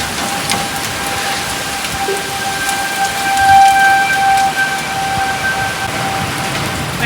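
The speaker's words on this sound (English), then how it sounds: "Tornado sirens just went off." Tornado sirens wail steadily in the distance through heavy rain, the downpour hissing constantly up close on a surface while the siren tone swells and fades.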